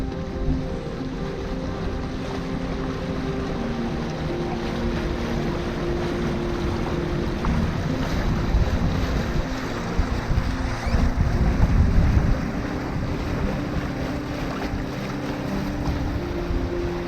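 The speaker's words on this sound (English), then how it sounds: "Wind's picked up a bit." Steady wind rushing past a sailboat under way at sea, with water washing against the hull; a continuous broadband roar that swells slightly louder midway, no voices.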